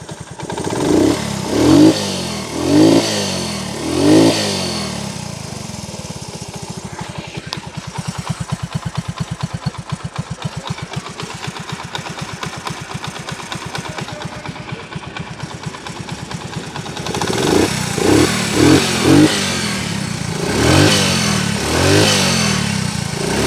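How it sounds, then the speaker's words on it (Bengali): A Honda CD80 motorcycle engine runs nearby, moving between a steady single-cylinder idle and several throttle blips and revs. No one speaks. "এবার আপনাদেরকে গাড়ির ইঞ্জিনের সাউন্ডটা শোনানোর চেষ্টা করব"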